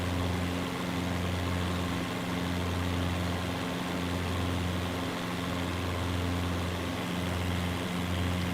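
Steady aircraft engine drone from a plane in Microsoft Flight Simulator, a continuous low hum with strong tonal bands holding level throughout, with no talk.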